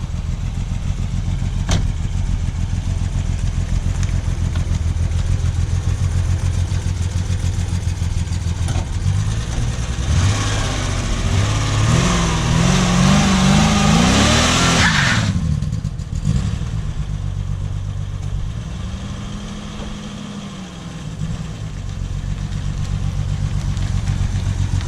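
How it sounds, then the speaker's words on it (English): A Ford Sierra's engine idles, then revs hard and climbs in pitch in a failed burnout attempt. It drops back to a rough idle, then makes a second, shorter rev. "That's the worst ever tried to do a burnout."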